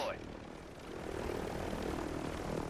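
Helicopter rotor and engine roar in Warzone, a broad continuous drone that swells slightly and holds steady, close and prominent amid game noise, with a voice talking over it.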